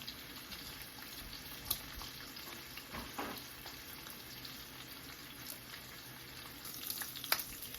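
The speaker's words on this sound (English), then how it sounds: "So we're going to let our bacon cook for a little while, then we're going to add our onions." Bacon fries in a skillet with a soft, steady sizzle and light crackle, plus a few faint utensil clicks, quiet and close with no talking.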